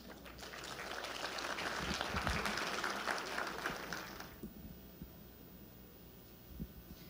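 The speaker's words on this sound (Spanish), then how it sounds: "La recibimos con un fuerte aplauso" Audience applause welcoming a speaker at a health-system conference in Colombia, a steady rumble of clapping that swells for about four seconds, then cuts off, leaving faint room hum and a few scattered thumps.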